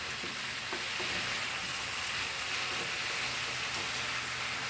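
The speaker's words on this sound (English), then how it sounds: "let my onion get nicely caramelized" Onion caramelizes in a pan with masalas and tomato sauce, giving a steady, even sizzle like light rain throughout, with no voices.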